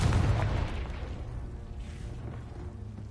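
A Confringo blasting spell goes off in Hogwarts Legacy as a single deep explosive boom that rumbles and slowly fades away.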